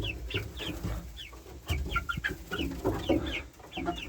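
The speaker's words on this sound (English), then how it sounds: "We've got chickens, and in the next few months we'll be getting eggs from them." Seven chickens cluck steadily in a coop on a Tennessee homestead, quick repeated calls, a few overlapping, close by with scuffling and shuffling underneath.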